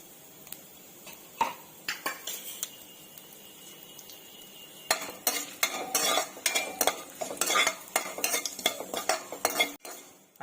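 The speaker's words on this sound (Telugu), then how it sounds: "కొంచెం ఆవాలు, లైట్గా జీలకర్ర వేసుకొని ఫ్రై చేసుకుందామండి" Mustard seeds and cumin frying in hot oil for semiya carrot upma, with soft sizzling and faint crackles, then a burst of scraping spoon strokes and clinks against the pan through the second half.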